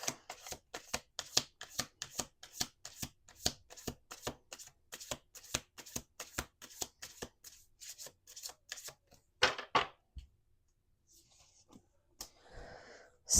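A deck of cards being riffle-shuffled several times in a row, producing rapid, close, dry flutters in repeated bursts, followed by a few softer handling rustles.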